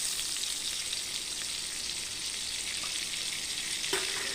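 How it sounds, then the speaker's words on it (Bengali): Pointed gourd slices frying in oil in a wok make a soft, steady, even sizzle throughout, with a faint utensil clink just before the end. "পটলগুলো সব ভাজা হয়ে গেছে, এবার তুলে নেব।"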